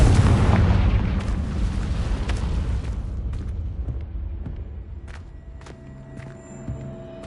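A Confringo fire spell explodes in Hogwarts Legacy, opening with a loud, close blast that rumbles and crackles as it fades over several seconds, followed by a few faint scattered pops.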